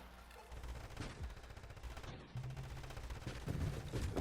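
Rapid small-bullet fire in the space shooter Nova Drift, a dense continuous crackle of tiny shots layered over game sound effects at moderate level.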